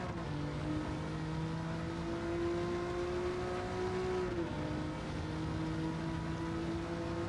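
An Alfa Romeo Giulia GTAm engine in Gran Turismo 7 holds a steady high-revving drone against the rev limiter, with a slight pitch dip midway, continuous and fairly distant.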